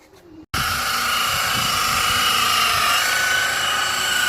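After a brief quiet moment, a power buffer polishing wet-sanded car paint whirs up and runs continuously, a loud steady high-pitched drone with a faint rumbling underneath.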